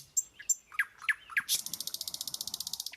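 Cartoon birds in a mango tree chirp: a few separate sharp tweets, then a rapid, even run of repeated chirps, close and bright with no talk.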